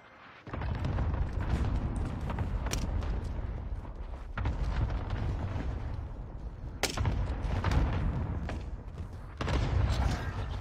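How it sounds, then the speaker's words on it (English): Bomb explosions in the Warzone video game, a steady roar of deep booming blasts with sharp bursts, continuous and loud throughout. "One more bomb?"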